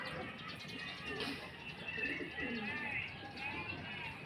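Pigeons coo softly in a faint, low outdoor murmur with scattered chirps. Quiet talk blends in the background.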